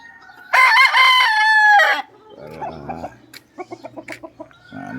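Close by, a rooster lets out one loud, drawn-out crow, then chickens follow with a run of short, rhythmic clucks and soft murmurs in a quiet coop.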